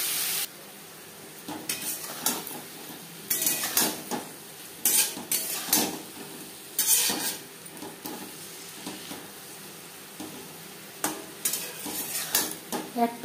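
Marinated prawns lightly frying in a pan, with soft sizzling under repeated bursts of stirring and utensil scrapes against the pan, close and fairly quiet, no talking.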